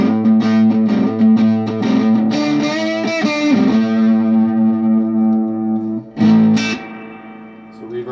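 Telecaster electric guitar played through a Vox AC-15 tube amp, heard alone as sustained chords and ringing notes with a distorted, effected tone, steady and close, with a brief louder strum near the end.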